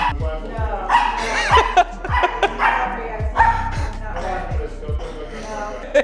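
A puppy barks and yips again and again in short bursts, close by, while people talk and laugh around it.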